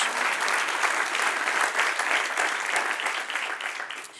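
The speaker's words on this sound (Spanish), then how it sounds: "Denle un aplauso al que reina." A church congregation at a Bible class gives a dense, sustained round of applause, loud and continuous with no voices over it.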